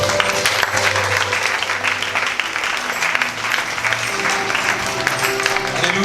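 A church congregation claps steadily and loudly in praise of the Lord, a dense continuous wash of applause with faint voices and music underneath.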